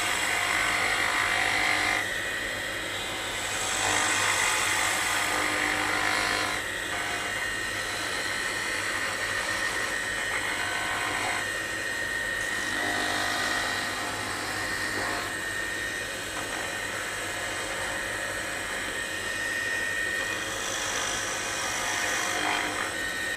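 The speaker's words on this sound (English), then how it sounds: "do some light planing cuts just to bring this thing down to the size we want it" Light planing cuts on a wood lathe while turning a wooden cross, a continuous whirring, hissing tool-on-wood sound with slowly rising and falling intensity, steady and moderately close, no talk.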